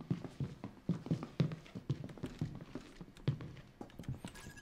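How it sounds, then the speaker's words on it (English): Footsteps in the survival video game Pamela: soft, faint, irregular steps tapping along at a quiet level, with no talking over them. "was something was walking, or was it my footsteps that I was hearing?"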